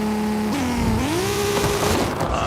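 A 2023 BMW M2 in Forza Horizon 5 revs at launch and spins its tires, the engine note climbing, dipping, then rising again in a loud, steady drone with a faint tire squeal.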